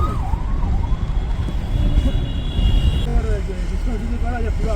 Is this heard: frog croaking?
no